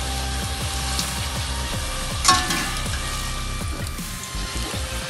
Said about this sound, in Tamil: இப்போ கடாயில் எண்ணெய் காஞ்சிடுச்சு. பூரியை போட்டுக்குவோம்.